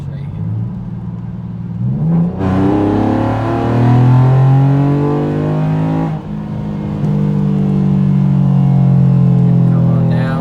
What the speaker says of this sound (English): But when you get on it, I'll drop a couple gears right here.